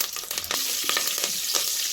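Mustard seeds, cumin, curry leaves, garlic and dried red chillies crackle and sizzle in hot oil, a loud, close, steady fry with quick popping bursts throughout and no voices.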